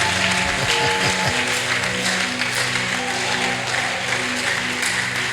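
A church congregation applauds to acclaim the Lord, a steady, dense wash of clapping that runs the whole time, with faint sustained musical tones underneath.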